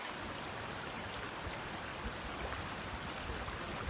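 Steady broadband rush of a river flowing across a hiking trail water crossing on the Appalachian Trail, a constant close wash of moving water with no voices.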